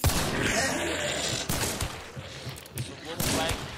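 Rapid gunfire from the player's gun in the game Gauntlet crackles in dense bursts throughout, with a game voice mixed in underneath.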